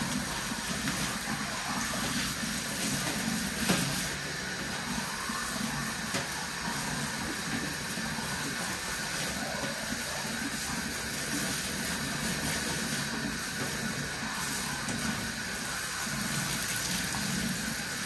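Water runs steadily through a recirculating bathing system while an Afghan Hound is rinsed, a continuous close hissing gush that never lets up and has no talking over it.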